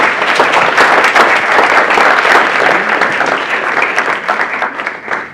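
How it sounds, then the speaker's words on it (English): Loud, dense applause from an audience at a speech event for a college-support program's graduating class, many hands clapping continuously before fading slightly at the end. "Guys, just give them a round of applause."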